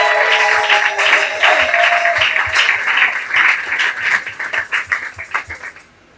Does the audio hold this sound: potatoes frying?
no